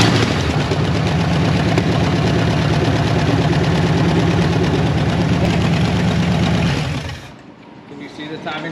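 A 1967 Ford Mustang Fastback rescued from a West Virginia holler runs with a loud, steady, rough engine drone up close for several seconds before abruptly shutting off, leaving quieter background.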